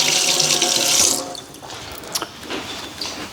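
Seafood shellfish being washed under a running kitchen tap, a loud close gush of water for about a second, then quieter splashing and handling as the shells are rinsed.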